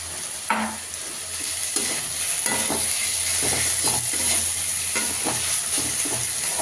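Chickpea greens fry with roasted cumin powder, a close, steady sizzle broken by repeated scraping stir strokes of a spatula in the pan, loud and rhythmic.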